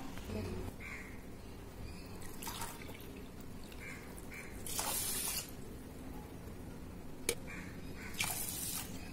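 Water splashes and swishes in short bursts as grains for dosa batter are stirred and rinsed in a bowl, with small drips and a few sharper knocks in between.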